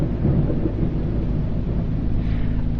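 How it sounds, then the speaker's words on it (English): A loud video-game thunderstorm gives a sustained, close, heavy rumble of thunder with rain-like hiss over it, steady across the whole stretch with no talking. "I love thunderstorms in real life, but in games, holy crap. You wouldn't ever think that it'd be this loud."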